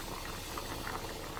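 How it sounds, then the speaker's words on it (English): A pot of Cameroonian beans stew boiling on the stove, with a steady close bubbling and gentle popping that runs without a break and no voices. "So let's see how it's boiling."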